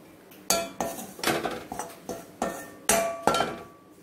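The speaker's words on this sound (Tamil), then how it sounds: "You have to stir it till that raw smell is out." A metal utensil stirs Mysore pak mixture in a pan, making repeated loud scraping clanks and knocks in an uneven rhythm, with no other sound.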